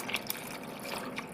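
Water from a tap runs into a small saucepan holding eggs, a steady close splashing stream with a few brighter drips.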